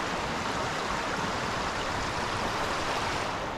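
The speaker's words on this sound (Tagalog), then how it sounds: "Malawak naman tong ilog na to." Steady broadband rush of a wide river flowing in Taiwan, continuous and even without pauses, loud and close with no voices over it.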